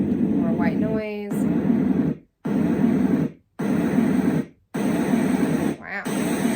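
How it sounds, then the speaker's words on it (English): A baby and toddler sound machine with a night light plays white noise: loud, steady broadband hiss in several blocks separated by brief silent gaps, with a short vocal sound near the start and end. "So it's like more white noise."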